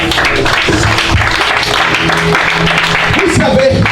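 Church congregation applauding and cheering during a worship service, a steady wash of clapping with voices mixed in throughout.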